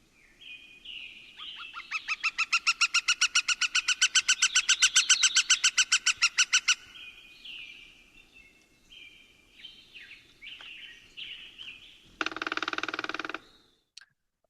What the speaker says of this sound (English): To me, the drum sounds quite a bit like a hairy woodpecker.